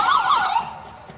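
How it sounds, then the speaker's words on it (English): A Brownsville ambulance service siren wails through a 2014 university homecoming parade, loud and near, sweeping up and down before fading out within about a second. "right now we have the Brownsville ambulance service coming through"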